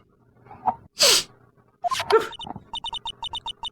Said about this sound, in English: Achoo!